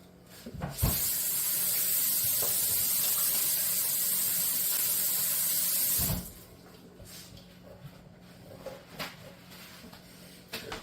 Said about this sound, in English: Let me wash my hands now.